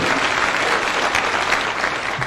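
Applause for the speaker from a stadium crowd at an interdenominational church service in Nanyuki, a continuous, loud, dense wash of many hands clapping without pause.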